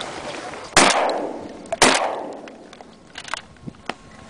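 Two sharp, loud shotgun blasts ring out about a second apart during a duck hunt, each trailing a brief echoing decay, followed by fainter scattered pops and a few quiet clicks.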